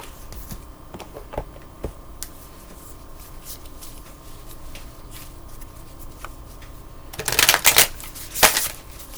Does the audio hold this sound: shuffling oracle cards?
yes